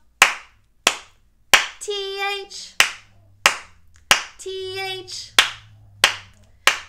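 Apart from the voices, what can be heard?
rhythmic hand clapping in a children's song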